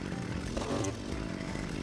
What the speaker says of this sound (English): I'm drilling the hole for the posts same as the north side